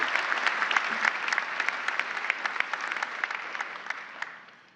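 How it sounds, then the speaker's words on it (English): An audience at a university ceremony applauds the faculty with a dense, steady clapping that fills the hall, then fades out at the end, with no talk over it. "You can applaud the faculty."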